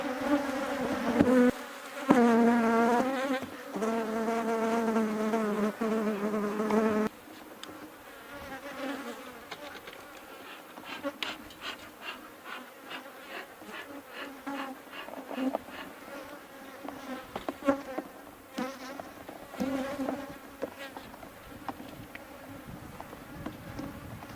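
Honey bees buzzing around an opened hive after being riled up during a frame inspection, a dense, agitated swarm hum with individual bees whizzing close past, loud at first then thinner and more scattered.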